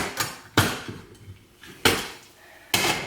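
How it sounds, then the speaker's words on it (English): Metal clamps clatter and knock as they come off a Yamaha Grizzly ATV secondary clutch on a workbench: three sharp, loud metallic impacts spaced about a second apart, with lighter scraping and handling noises between them. "I'm going to take the clamps off."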